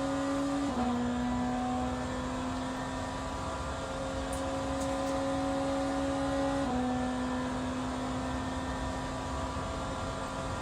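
BMW M Hybrid V8 hypercar in Le Mans Ultimate, its engine a steady high whine that holds pitch and then drops with each gear change, continuous and close.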